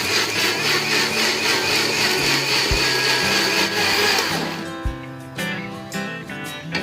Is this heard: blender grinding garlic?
yes